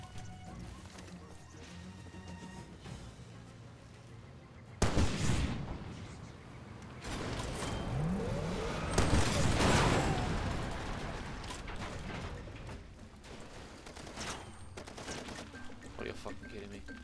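Enemy gunfire in Far Cry 2 erupts in sharp bursts around the middle, dense rapid shots and crashes that swell and fade, with someone talking over the fighting.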